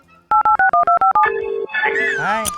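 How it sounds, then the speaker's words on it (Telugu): A telephone keypad dials out in six quick, evenly spaced beeps. Longer, steadier line tones follow, clear and close with no talking over them. "అరే గాలిగా బాలయ్య కాక ఫోన్ కొట్టరా, కొట్టు జల్దీనా."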